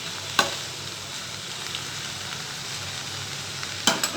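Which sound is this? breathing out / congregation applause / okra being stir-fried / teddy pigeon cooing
okra being stir-fried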